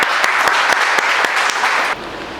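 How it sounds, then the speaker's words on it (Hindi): Loud, steady applause from a studio audience welcoming a Congress politician onto a Hindi public-court style talk show, with rhythmic clapping throughout that cuts off sharply near the end. "जोरदार तालियों से"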